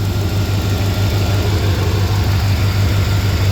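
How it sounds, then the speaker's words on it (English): The engine of a 1984 Corvette Z51 with FiTech fuel injection runs at a steady, loud idle with a low pulsing throb, while its electric cooling fan spins and adds a constant whir. "I have the FiTech controlling the fan, which is now spinning now, as you can see"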